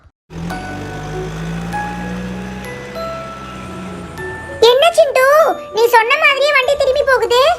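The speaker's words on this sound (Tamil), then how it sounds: "அங்க பாத்தியா ஒரு ஐஸ்கிரீம் ட்ரக் போச்சு" An ice cream truck's tinkling jingle melody plays for several seconds in a cartoon scene, then gives way to animated child-like voices talking.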